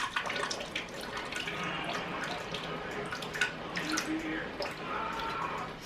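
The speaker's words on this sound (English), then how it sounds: "pour our juice in there" Pineapple juice is poured from a can into a pan, giving a steady, close splashing trickle with small drips throughout.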